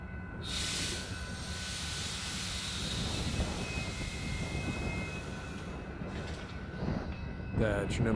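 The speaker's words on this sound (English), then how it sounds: "we got a little horn on the way in" Amtrak California Zephyr passenger train arriving at Fort Morgan on a windy night, a steady rumbling roll with wind hiss, a brief horn tone and a louder burst near the end.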